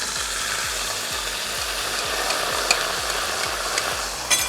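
Marinade sizzling over pork ribs in a kazan, a continuous hissing fry with rhythmic low scraping or stirring pulses underneath and a couple of small clinks.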